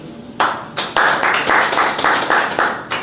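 Conference audience applauding, a loose crowd of claps building into repeated bursts with sharp individual slaps standing out, fairly close and lively.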